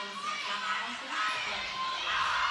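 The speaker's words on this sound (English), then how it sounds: "Oh, the crowd is getting loud." A roller derby crowd grows louder in an indoor arena, a swelling wash of cheering and chatter heard all around, with an announcer's voice talking over it.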